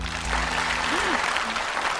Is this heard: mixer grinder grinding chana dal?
no